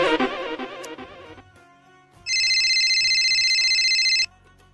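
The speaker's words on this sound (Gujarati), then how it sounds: "ફોન ઉપાડ. ફોન ઉપાડ ની." A mobile phone ringtone plays in a Gujarati comedy scene, a steady bright electronic ring lasting about two seconds after a brief stretch of other sound.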